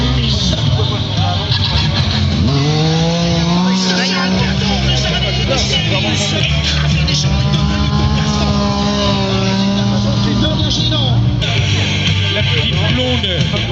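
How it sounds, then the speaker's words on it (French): Yamaha three-cylinder motorcycle engine revving loudly at an extreme stunt show in Saint-Rémi-sur-Orne, its pitch rising and falling continuously beneath an excited announcer and crowd noise. "Avec les 3 cylindres Yamaha, c'est une vraie réussite cette moto pour Yamaha."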